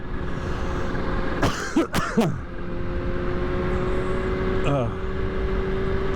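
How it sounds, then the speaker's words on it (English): A rider coughs and clears his throat a few times, fairly close, over the steady drone of a Kawasaki ZH2 SE motorcycle engine and wind noise. "Sorry for all the coughing and hacking."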